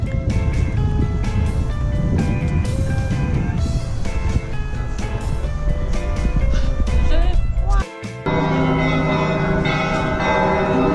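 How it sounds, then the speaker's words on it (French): Church bells ring in Moscow, a clear, sustained peal of overlapping tones heard at some distance, with street traffic and people talking. "On se rapproche du son des cloches."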